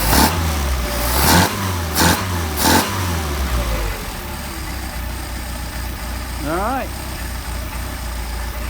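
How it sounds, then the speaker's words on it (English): A car engine fitted with Solex carburetors runs steadily at idle, with several sharp revs early on and then an even, continuous hum; a person speaks briefly. "Got you a nice running set of carburetors."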